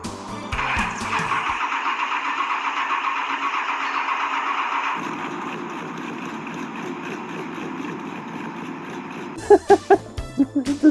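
A worn old Chevrolet 350 V8 truck engine cranks, catches and settles into a steady, loud idle up close, with a few sharp clanks near the end.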